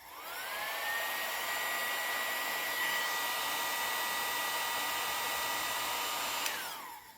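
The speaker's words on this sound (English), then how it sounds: "Actually, I should blow dry these." A handheld hair dryer blows steadily to dry freshly painted nails, a loud continuous whooshing whine that switches on, holds for several seconds, then cuts off, with no talking.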